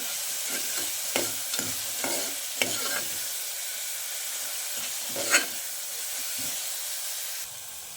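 Chopped onion frying in oil until brown for a drumstick gojju, giving a steady close sizzle broken by several sharp stirring scrapes and clicks, with no talking.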